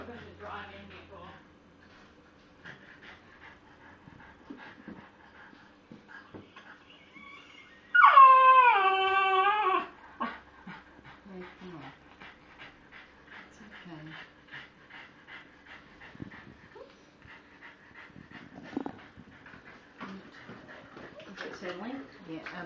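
A dog in the middle of a seizure pants and breathes faintly throughout, with a loud wavering whimper-howl lasting about two seconds near the middle and scattered small whines after it, while people talk quietly nearby.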